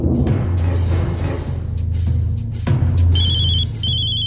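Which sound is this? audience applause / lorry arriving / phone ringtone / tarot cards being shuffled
phone ringtone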